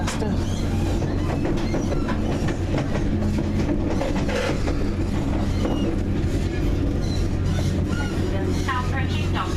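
A Turbostar diesel train pulling into Doncaster station, heard as a loud continuous rumble with rail clatter and engine drone throughout, close by and dense.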